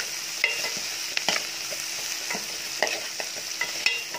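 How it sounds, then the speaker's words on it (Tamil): Curry leaves and green chilli sautéing in a pan for a brinjal, drumstick and potato kulambu: a continuous sizzle with sharp, irregular spatula scrapes and taps, near and fairly loud, with no talking. "அதையும் போட்டு நல்லா வதக்கணும்."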